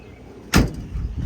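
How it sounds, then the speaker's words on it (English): A door on a 1955 Chevrolet Bel Air swings shut with one solid, close thump, followed by a brief low rumble as it settles. "Doors shut great."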